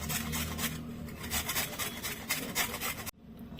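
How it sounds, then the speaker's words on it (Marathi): Peeled potato rubbed against a grater in quick, rasping back-and-forth strokes, close and steady for about three seconds before stopping abruptly. "बटाटा किसून घ्यायचे आहे."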